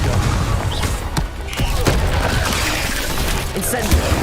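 In Hogwarts Legacy, the Confringo explosive spell goes off in a rapid series of sharp bursts and crashing booms amid loud combat noise.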